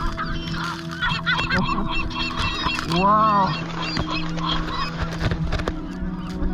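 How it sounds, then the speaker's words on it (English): Seabirds squawk and call in a busy group while feeding on fry, with honking, squealing cries close by and a person's brief exclamation mixed in. "The seagulls are seabirds."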